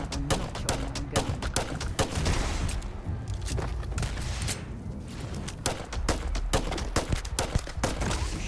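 Gunfire in Starfield, a run of sharp, evenly spaced shots, loud and close, with short pauses between bursts over a low rumbling game backdrop and some talk mixed in.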